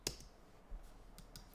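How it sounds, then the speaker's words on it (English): A few sparse keyboard clicks as a word is typed and the enter key pressed, quiet and close with short gaps between taps. "you want to type your word and hit enter"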